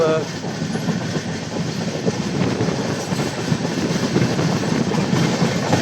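The Pune-Howrah Azad Hind Superfast train with LHB coaches rolls along after pulling out of Rajgangpur, giving a steady, loud rumble with rhythmic wheel clatter, heard from on board.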